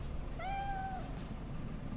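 A hairless cat in Cyberpunk 2077 gives one clear, rising-and-falling meow, close and alone over a low background hum.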